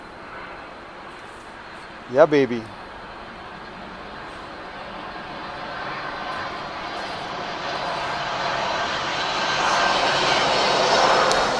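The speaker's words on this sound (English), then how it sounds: "Another plane coming in." An airplane flying in to land rumbles steadily and grows gradually louder toward the end, with a brief voice heard early on.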